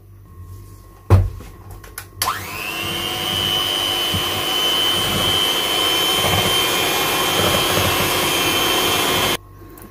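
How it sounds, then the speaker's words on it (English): Hand mixer whisking a thick body cream for damaged skin, clicking on after a clatter and settling into a steady, close electric whine that holds for several seconds before cutting off. "So I'm going to use my hand mixer to whisk this together."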